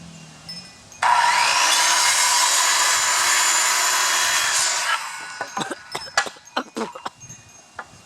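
Power saw cutting a roughly ten-foot wooden board for homemade shutters: a loud, steady high whine running about four seconds, then winding down into scattered knocks and clatter close by.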